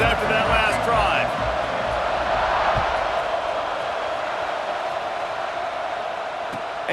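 A football stadium crowd roars steadily after a scoring drive in an Ohio State at Michigan game, a loud sustained wash of cheering with whoops early on that settles into a constant roar.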